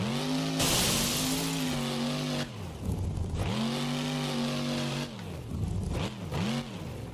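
Monster truck engine in the BeamNG driving simulation, revving hard and loud in repeated surges, with the pitch climbing and dropping as the throttle opens and closes during a freestyle run.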